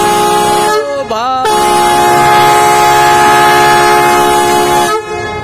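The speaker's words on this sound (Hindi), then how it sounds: "बहुत तेज आवाज आई है कान में सर। ट्रेन जाने वाली है" Loud, sustained train horn blares at a station as the train prepares to depart, a steady multi-tone blast holding for several seconds with a brief pitch wobble near the start, close and dominant over the surrounding noise.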